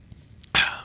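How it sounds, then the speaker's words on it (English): A single short sneeze bursts out sharply near the mic after a brief quiet pause with a faint breath. "I'm going to sneeze."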